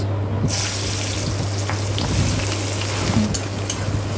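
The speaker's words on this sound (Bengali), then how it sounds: "গোটা জিরে ফোড়ন দিলাম দেওয়ার পরে দিয়ে দেবো পেঁয়াজ" Whole cumin seeds tempering in hot oil, then chopped onions frying for a Bengali curry, a strong continuous sizzle that swells as the onions hit the pan, close and loud with no talking.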